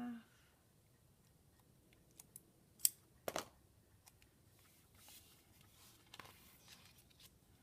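Scissors cut a planner sticker in half with a couple of short, quiet snips in an otherwise hushed room.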